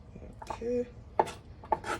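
Knife chopping papaya into tiny dice on a cutting board, a few sharp close knocks spaced apart with light scraping and a brief tonal ring between them.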